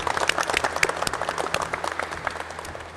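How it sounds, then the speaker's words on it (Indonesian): Short burst of clapping from students in an automotive vocational school classroom, a quick scattered patter of hands at moderate distance that thins slightly toward the end. "Tepuk tangan untuk semuanya."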